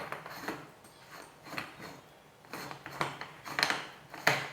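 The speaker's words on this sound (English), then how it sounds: "put the lid on." A lid is screwed onto a whipping cream dispenser: soft scraping and a few light metallic clicks and taps, close and quiet, without speech.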